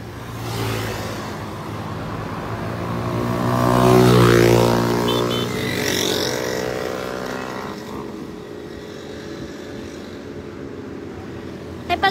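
Road traffic at a city fiesta parade, with a motor vehicle engine rising and passing close by at about four seconds over a steady outdoor rumble, then fading back to a continuous background drone.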